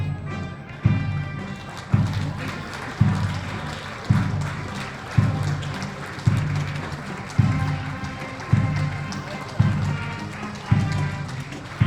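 Military academy cavalry horses enter a parade ground at a ceremonial review, their hooves giving a steady rhythmic thudding roughly once a second, loud and close, over a crowd murmur.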